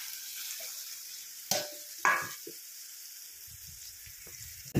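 Soybeans with turmeric and chili being stirred and sautéed in a pan, a soft steady sizzle broken by a few sharp scraping stirs, with quiet clinks near the end.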